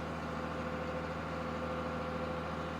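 A John Deere 4250 tractor, about forty years old, idles with a steady low diesel drone and even mechanical hum, unbroken and close for a few seconds.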